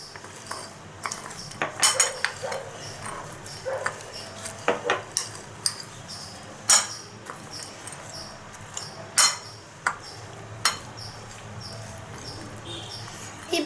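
Sprouted green moong dal salad stirred in a bowl, with a spoon clinking and scraping against it in scattered, irregular taps close by, and no voices.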